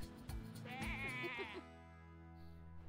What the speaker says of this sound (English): Oh, there's the goats.